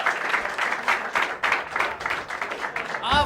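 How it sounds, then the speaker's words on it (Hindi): An audience at a Hindi poetry show applauds as a performer is welcomed on stage, a steady wash of clapping with talk running over it, ending in a short whistle-like cheer. "दोस्तों तालियों के साथ एकदम।"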